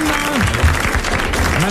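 Studio audience clapping in a French radio or TV game show setting, a steady wash of applause running under a talking voice for the whole short stretch.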